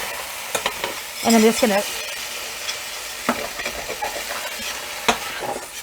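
Tomatoes go into a hot pan and a utensil scrapes up the browned bits while making Swiss steak. Soft sizzling runs under scattered scrapes and knocks, with a voice speaking briefly.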